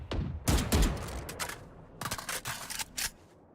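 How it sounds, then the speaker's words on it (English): Rapid gunfire from the tactical shooter game Valorant during a competitive match, two clusters of sharp crisp shots in quick bursts, fairly faint, with no voices heard. "Saber gets Max with a clean headshot."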